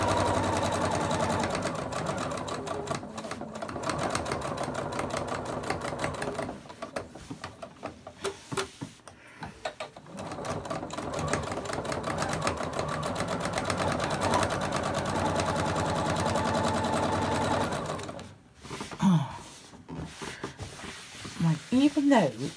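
A sewing machine stitches fabric for a laptop bag in steady, rapid runs with brief pauses, loud and close, and a voice talks during the quieter gaps near the end.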